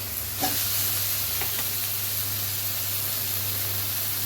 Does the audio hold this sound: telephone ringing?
no